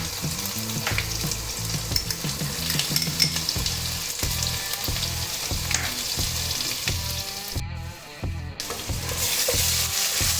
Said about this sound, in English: along with that we add our ginger garlic paste, and the green chilies.